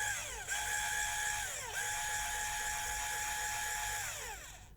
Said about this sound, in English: the grinder seems to suffer to push the final 1 gram